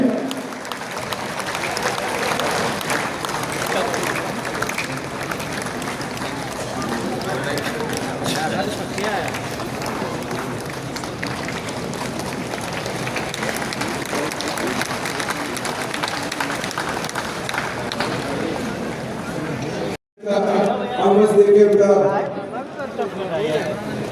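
Audience applause at a Teli community political gathering, a sustained dense roar of clapping from a large crowd lasting about twenty seconds, loud, then a brief drop and a voice speaking over the tail.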